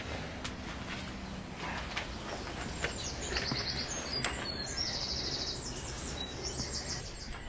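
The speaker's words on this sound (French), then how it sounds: "on est vraiment tout près des oiseaux" Small birds calling from the shore of a nature reserve, faint high chirps and twittering trills scattered over a steady outdoor hiss of wind and distant background, heard at a distance without talk.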